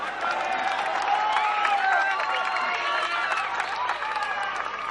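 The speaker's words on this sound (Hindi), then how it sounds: "ठोको ताली, ठोको ताली।" Sustained applause and crowd noise from an audience at a public meeting, steady dense clapping with cheering throughout.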